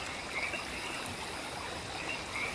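A quiet outdoor nature scene with trickling water near a waterfall and faint chirping insects, a soft steady wash of sound.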